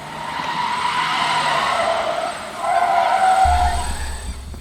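A car drifting into a spin screeches and skids across the pavement in two long, loud tire squeals with a brief break between them and the engine rumbling underneath. Nobody speaks.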